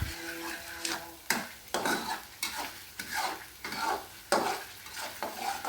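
Goat meat curry fries and sizzles in a pan while being stirred, with repeated scraping strokes of a utensil against the pan, close and fairly quiet.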